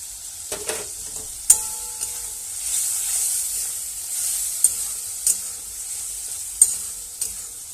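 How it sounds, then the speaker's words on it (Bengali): Spices and chopped tomato being sautéed and stirred in a pan, a bright steady sizzle with occasional sharp clicks of the spoon against the pan, close and alone without speech. "কষিয়ে নেব, নাড়াচাড়া করে নিই। টমেটো কুচা দিয়ে দিচ্ছি।"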